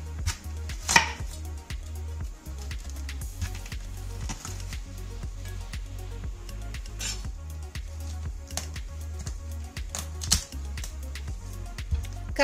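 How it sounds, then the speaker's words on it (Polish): A knife carves the core out of a head of cabbage, with irregular crunchy cuts and sharp taps against a board, close and clear throughout, with no voices. "Z kapusty wycinam trzon."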